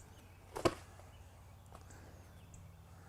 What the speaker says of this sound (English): that tail sock sounds like a whip back there